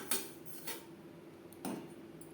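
Semolina dry-roasting in a pan is stirred with a metal utensil, giving three or four faint, separate scrapes and clinks against the pan in an otherwise quiet kitchen.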